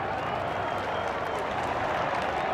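A college football stadium crowd applauds and cheers in a steady, dense roar during a Washington vs Indiana game, filling the space continuously at a fairly loud level.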